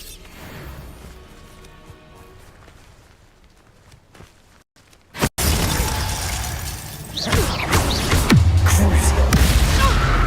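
Bombarda blasting spell in Hogwarts Legacy: a sudden sharp explosive crack midway, followed by a loud sustained roar of debris and rumble that swells toward the end.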